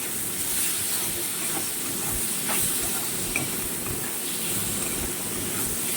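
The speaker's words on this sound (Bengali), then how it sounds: "আর এটা সুন্দর করে ভাজে নিতে হবে, একদম পুরো ভাজা ভাজা করে।" Meat with chili powder and sugar fries in a pan, giving a dense, even hiss of sizzling that holds steady throughout, with faint stirring ticks and no voices.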